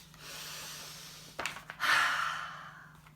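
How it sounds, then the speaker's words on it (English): A storyteller's audible breath: a soft airy inhale followed by a longer, deeper intake of breath, close and quiet with no words spoken. "Let's take a breath with her now."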